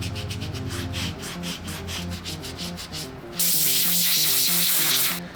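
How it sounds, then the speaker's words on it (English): A melamine foam pad scrubbing lightly on a Nike Air Yeezy 2 Platinum sneaker, making repeated soft rubbing strokes in a steady rhythm, close up over a tonal backdrop of music. "On the Nike, very lightly scrubbing using the melamine foam pad."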